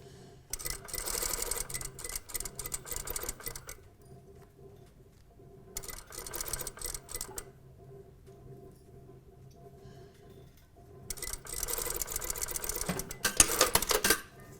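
A sewing machine stitches a bias binding onto a hem in bursts of fast mechanical whirring, with three runs separated by quiet pauses and the last run the longest and loudest.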